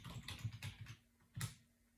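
Quick bursts of close keystrokes on a computer keyboard while typing a Multipass command in Ubuntu Linux, a short cluster of taps, a pause, then one last firm press.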